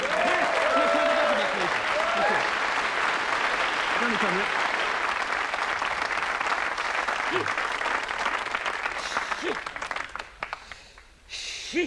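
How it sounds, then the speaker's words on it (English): A television studio audience applauds for a former comedy star on a 1984 game show, loud and sustained with whoops over it, thinning out toward the end. "A big round of applause, please, for former comedy superstar, Rick Tempest!"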